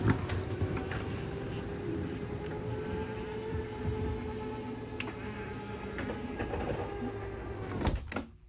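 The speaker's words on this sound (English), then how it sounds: "Then we have your control for your main slide room here. So we'll hold down slide room out." The main slide room motor on a 2015 Jayco Precept 35UN motorhome extends with a steady, low electric hum and faint mechanical ticks. It ends in a short clunk as it stops.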